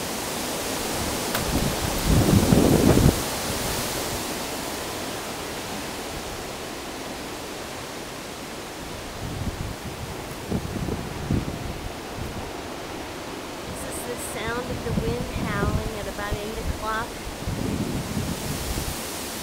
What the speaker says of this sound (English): maybe we get the flashes in the sky and the sound of the wind